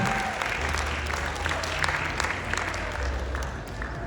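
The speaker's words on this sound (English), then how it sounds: "Round of applause, Kat and Jude," Audience applause at a festival stage show, a steady wash of clapping from a crowd that holds evenly for a few seconds with a low hum underneath.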